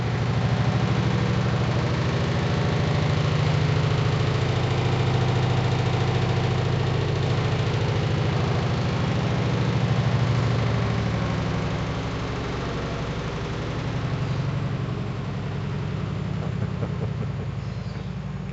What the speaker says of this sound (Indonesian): Kalau kuliah pagi ini jadwalnya mesin cuci bunyi ya